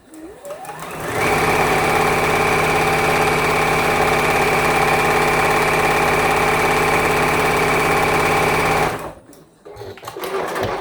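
A sewing machine chain-pieces quilt blocks for a Christmas tree quilt background, running in one long steady close-up whir of about eight seconds with a quick start and stop and no talking.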